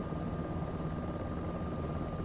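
Robinson R66 helicopter lifting off at Painted Hills, Oregon, its turbine engine and rotor making a steady, loud, continuous drone with an even broadband roar and a constant whine, and no talking.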